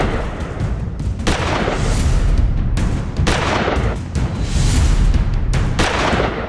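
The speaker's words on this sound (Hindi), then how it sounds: "2 बदमाश सरेआम पिस्टल लेकर शहर के जाने माने डॉक्टर विवेकानंद झा के क्लिनिक में पहुंचे और दनादन फायरिंग करने लगे।" Pistol fire recorded on CCTV at a doctor's clinic, heard as a continuous harsh, distorted roar with repeated sharp bursts of shots, loud and crackly throughout.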